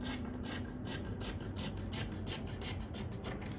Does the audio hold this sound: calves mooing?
no